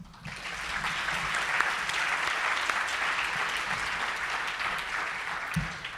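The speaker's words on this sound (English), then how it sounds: "Let's stop to give them a round of applause." An audience at a computational neuroscience conference's closing session gives a round of applause, a steady, even wash of many hands clapping, moderately loud and unbroken.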